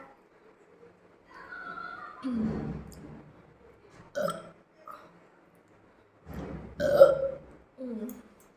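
Close, loud burps after gulping down water, several separate throaty bursts in a row with short pauses, no talking.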